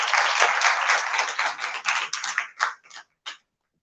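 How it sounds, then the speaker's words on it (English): An audience at a national CSR summit claps for Enactus, a dense burst of applause that thins into a few scattered last claps before fading to silence. "Give a huge round of applause for Enactus"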